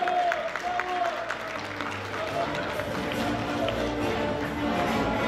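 Audience applause at the Siyah İnci award ceremony as an honoree walks on stage, sustained clapping from many hands under ongoing music and some voices, holding an even moderate level throughout.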